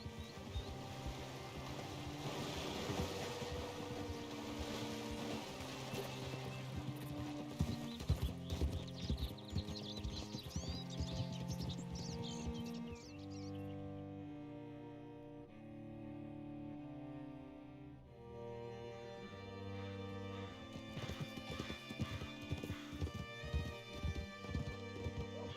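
Horse hooves in Red Dead Redemption 2 clip-clop at a steady walking pace, fairly faint under a continuous tonal musical backdrop.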